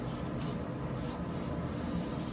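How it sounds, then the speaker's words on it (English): Several short hissing sprays of liquid onto chicken repeat in quick succession over a steady low rumble of a pellet grill outdoors. "Hit it with a spray."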